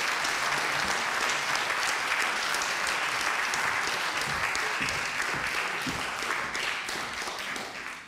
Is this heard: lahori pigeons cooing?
no